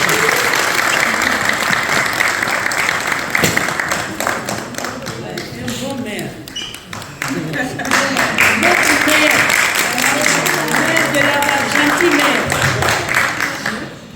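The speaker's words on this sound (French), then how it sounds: "Applaudissez pour votre présentation" Sustained audience applause fills a hall at a forum after a mayor is introduced for a welcome speech, dense and loud throughout with a brief dip midway before swelling again.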